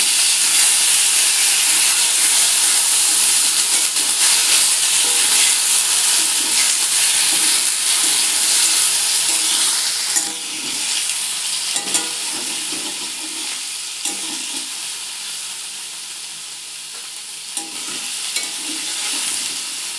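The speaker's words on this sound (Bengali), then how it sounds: "পনিরটা অল্প ভাজি করবো" Paneer frying in a pan for a home-cooked paneer and vegetable curry gives a steady bright sizzle and hiss throughout, loudest at first and easing slightly later, with occasional stirring scrapes and no talk.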